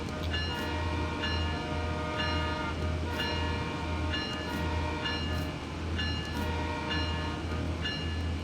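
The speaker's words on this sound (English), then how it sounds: "I kind of like having the window open and like blasting the horn" A CN train horn in the Train Sim World 6 video game blares continuously with the cab window open, a loud sustained chord over a steady low rumble and rhythmic clicks from the wheels.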